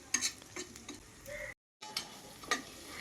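Onions, green chillies and biryani masala fry in a pan for egg biryani, a quiet sizzle broken by sharp spoon clinks and scraping taps, with a short silent gap midway.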